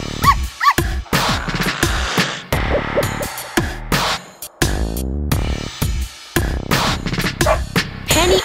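Two dogs bark repeatedly in loud, close, irregular bursts, with occasional yips and whimpers between the barks and no talking.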